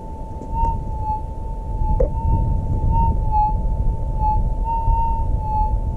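Gold prospecting metal detector in the Western Australian outback near Meekatharra gives a steady, gently wavering tone over a possible target, held over a constant low rumble of ground noise.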